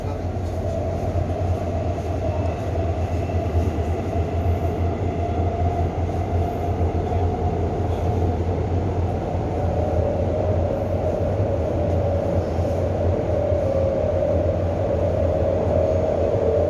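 Steady, loud rumble of a Shinbundang Line subway train running between Yangjae and Yangjae Citizen's Forest, a continuous low roar with faint rail noise throughout, no voices.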